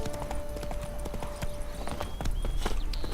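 Horse hooves clip-clop in a quick, rhythmic gallop in The Witcher 3: Hearts of Stone, close and steady over background game ambience.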